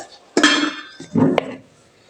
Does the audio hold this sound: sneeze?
no